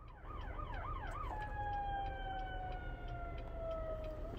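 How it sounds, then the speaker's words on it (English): Ambulance and police sirens on a city street: a fast wailing yelp gives way to a steady sustained siren tone, heard from a short distance over low traffic rumble. "Oh, there's police sirens. People are just honking at each other. There's an ambulance."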